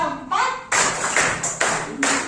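A classroom clapping signal: a few sharp hand claps in a short rhythmic pattern, close and loud, with a voice at the start.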